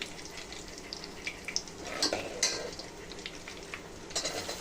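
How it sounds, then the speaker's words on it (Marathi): Chopped onion dropped into a hot pan and frying for a home vatana bhat, a steady low sizzle with occasional brighter crackles and a few soft stirring scrapes, close and fairly quiet, no talking. "आता आपण कांदा टाकूया."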